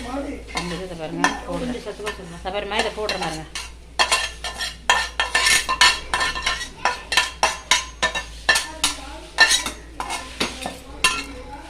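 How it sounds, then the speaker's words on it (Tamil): A dish being stirred in a cooking pot, a rapid run of scraping, clinking strokes of a spoon against the pot bottom over a soft sizzle, with a brief voice early on. "இந்த கிளறி விடுங்கம்மா அப்படியே போய் உட்காந்துரும் இல்லைனா அடியில் நல்லா கிளறி விடுங்க"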